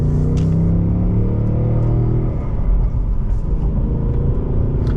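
A 2024 Mustang GT with the 5.0 V8 pulls in second gear after a downshift, a loud, steady low engine rumble holding for the whole stretch with slight swells in pitch.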